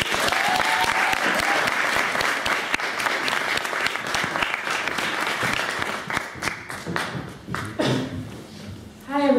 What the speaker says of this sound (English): Can we have a round of applause for Marah?